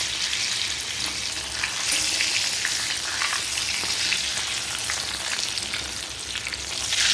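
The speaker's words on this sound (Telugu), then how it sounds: "ఇలా ముంచి వేసిన తర్వాత బాగా అటు ఇటు తిప్పి కొంచెం దోరగా వేగే వరకు తీసుకొని" Chili bhajji fritters dipped in batter fry in hot oil, a dense, steady sizzle and crackle that stays loud and continuous throughout, with faint stirring noises underneath.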